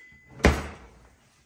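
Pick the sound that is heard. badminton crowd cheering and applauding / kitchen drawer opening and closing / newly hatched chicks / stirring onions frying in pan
kitchen drawer opening and closing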